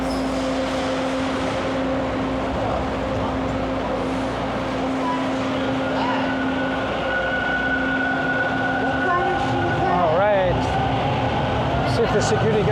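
A Toronto TTC subway train rides through the tunnel late at night with a steady loud rumble, a sustained motor whine and brief rising-and-falling squeals near the end, while people talk over it.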